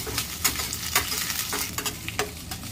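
Green chilies frying in oil in a pan give a close, steady sizzle, with regular sharp scrapes of a spatula stirring every half second or so.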